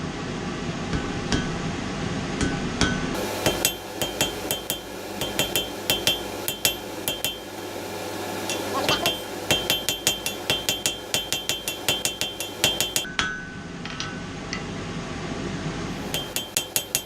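Repeated ringing hammer blows on hot metal drawing out a taper for a small hook, a fast uneven rhythm of sharp metallic strikes with anvil ring, close and loud, pausing briefly midway before resuming.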